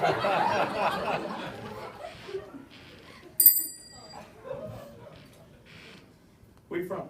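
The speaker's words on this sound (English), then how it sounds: "That's my grandmother's bell." A grandmother's hand bell gives one bright, ringing strike that hangs briefly, set among casual chatter and chuckling from people nearby.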